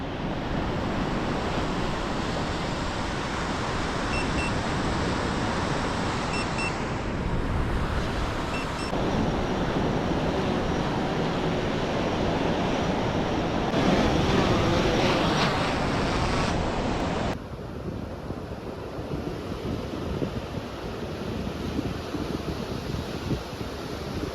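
Strong wind buffets the microphone with a steady roar, mixed with the wash of surf along a beach during drone fishing, continuous and loud throughout.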